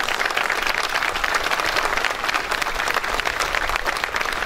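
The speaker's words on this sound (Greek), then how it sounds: "ένα θερμό χειροκρότημα ξανά στην χοροδία" Warm applause from a concert crowd for a choir in an open-air square on Kythera, a dense, steady wash of many hands clapping that carries on without a break.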